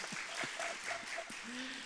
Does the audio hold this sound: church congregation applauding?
yes